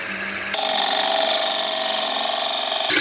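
A bowl gouge cuts a closed-form wooden bowl spinning on a lathe, giving a loud, steady, rough scraping hiss that starts abruptly and runs for over two seconds before stopping sharply.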